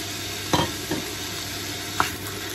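Sausage being stir-fried for fried rice in a pan: a steady close sizzle with a few distinct scraping stirs of a utensil against the pan.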